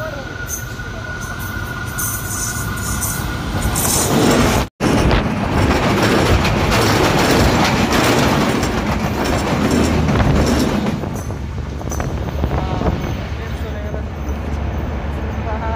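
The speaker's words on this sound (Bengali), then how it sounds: "এই যে ট্রেন আসতেছে দেখতেছি, সে খুব স্পিডে ট্রেন আসতেছে" A Bangladeshi train races past at high speed through a rural village, a loud close roar with clattering wheels that cuts out for an instant mid-pass, then trails into a fading rumble.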